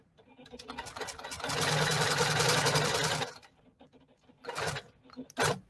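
A long arm quilting machine stitching fabric on its frame, whirring in one sustained burst of rapid needle strokes before stopping, followed by a few shorter stitching bursts.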